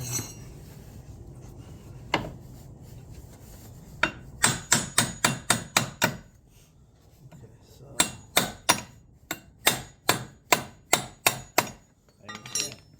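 A hammer taps a door jamb into place, a single knock and then two quick bursts of about eight sharp, evenly spaced strikes each, close and loud with short pauses between.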